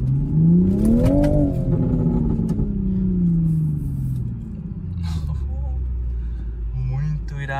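A new Toyota Supra accelerates hard in Sport mode, its engine and exhaust note climbing and then sliding back down as it shifts, loud and close with a deep rumble and a few sharp exhaust crackles.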